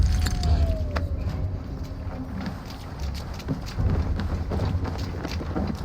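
Horse hooves gallop in steady repeated clip-clop beats across the clip in the Assassin's Creed Valhalla video game, moderately loud under a low rumbling bed, with faint voices at times.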